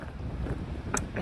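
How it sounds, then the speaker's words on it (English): Wind rushes steadily on a mountain trail in the Smoky Mountains, a close, continuous blustery roar buffeting the microphone, with a brief faint sound near the end. "It's still quite a bit windy today"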